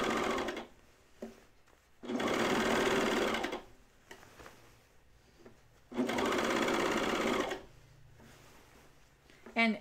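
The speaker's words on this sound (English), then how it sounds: "But my serger probably will push it away a little bit." A serger finishes the ruffled edge of a Bleuet dress from Deer and Doe patterns, running in two loud, steady, close bursts of a few seconds each with quieter handling sounds between them.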